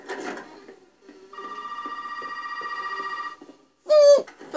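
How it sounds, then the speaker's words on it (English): A telephone rings in a video game, a steady electronic trill that holds for about two seconds. A short harsh electronic tone follows, with faint background sounds before and after. "Who's on the funky phone?"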